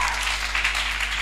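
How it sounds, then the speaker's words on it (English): A church congregation claps hands together for Jesus in a dense, steady burst of applause that fills the short moment without a break. "give Jesus a hand clap"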